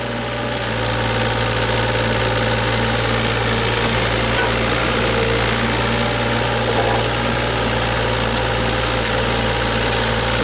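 A Yanmar VIO35-2 mini excavator, fitted with a new hydraulic thumb, runs at a steady, loud idle. The low engine drone is constant and close throughout, with no voices.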